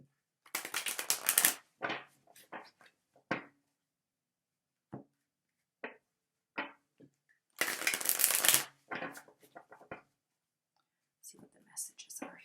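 Tarot cards are shuffled close up in two crisp riffling bursts, with quieter card taps and slides between them and soft speech in a hushed room.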